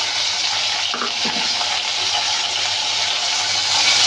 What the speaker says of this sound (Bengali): আদা রসুন পেঁয়াজ একটু নাড়াচাড়া করে হালকা করে ভেজে নেব